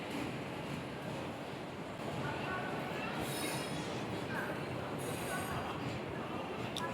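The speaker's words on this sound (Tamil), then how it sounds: "நம்ம ட்ராவல் பண்ண போகிற குருவாயூர் எக்ஸ்பிரஸ் அந்த ட்ரெயின் பிளாட்ஃபார்ம் நம்பர் 4க்கு வந்துருச்சு." The Guruvayur Express rolls into platform 4 of a railway station, a steady, loud rumble of wheels and carriages lasting throughout with faint squeals on top.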